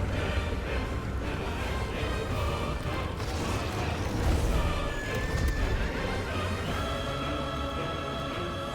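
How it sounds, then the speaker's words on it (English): A horse neighing in the video game Final Fantasy XVI, a loud drawn-out whinny among heavy game sound effects, rumbling impacts and clattering, continuous and dense with no speech. "That's a big motherfucking horse."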